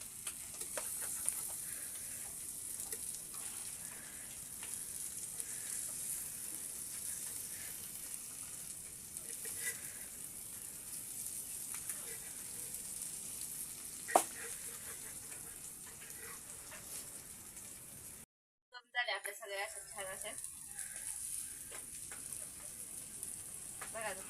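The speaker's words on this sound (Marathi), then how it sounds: "बघा आता कसलं बरे फ्राय होते ते" Fish frying in a pan on a wood-fired clay stove: a steady, close hiss of sizzling oil runs continuously, broken by a single sharp pop and one brief cut-out near the end.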